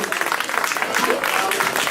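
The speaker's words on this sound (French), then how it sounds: "on les applaudit aussi" A crowd at an associations forum applauds sports and martial arts clubs, a dense, even wash of clapping with faint voices mixed in.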